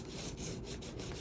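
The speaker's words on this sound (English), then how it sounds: "Let's see what happens when I burnish it." An edge glider burnishes the edge of very thin 1-2 oz leather with quick, soft back-and-forth rubbing strokes, faint and close.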